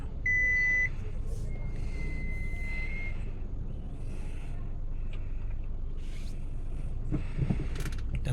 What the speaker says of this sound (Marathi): त्या ताईंची गाडी काढायची होती म्हणून गाडी मागे घ्यायला लागली